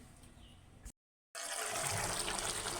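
Running water while small fish are washed, a steady close splashing gush that stops for a moment and then comes back stronger, no voices.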